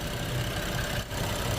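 A BMW 3.0L N55 engine idles steadily after about twelve minutes of running, a dense, continuous low rumble with a constant hum and no breaks, close and moderately loud.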